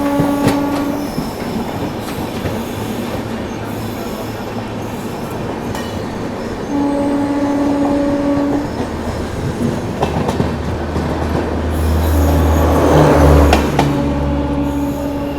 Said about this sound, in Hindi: यहाँ पर कानपुर शताब्दी निकलती हुई।